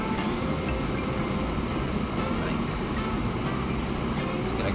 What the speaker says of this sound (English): If this train was going any faster, there's no way I'd be keeping up with it right now.